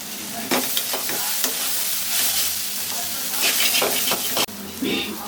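Coconut paste with cumin, coriander, dried chilli, salt and turmeric frying in a pan as stuffing for pointed gourd, a steady loud sizzle with stirring scrapes throughout, briefly dipping near the end.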